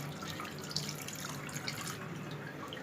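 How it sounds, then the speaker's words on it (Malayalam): Quiet, continuous trickle and splash of plain water being poured into a bowl of vinegar-curdled milk for homemade paneer, with faint drips and clinks in a close, calm setting. "ഇനി ഇതിലേക്ക് ഉടൻ തന്നെ നമ്മൾ പച്ചവെള്ളം ഒഴിച്ചു കൊടുക്കുകയാണ്."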